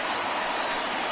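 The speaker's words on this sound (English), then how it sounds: "I don't know how much more rain this field can take." Steady rain hisses down on a ballpark field in MLB The Show 19, a continuous wash of falling drops with no breaks.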